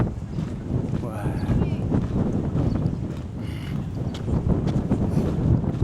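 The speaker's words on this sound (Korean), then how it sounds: "우와 바람 엄청 부네 바람이 언덕이네어 여기가 바람의 섬미코노스우와" Strong wind gusting across a hilltop on Mykonos island, a steady loud broadband roar buffeting the microphone throughout, with voices talking faintly underneath.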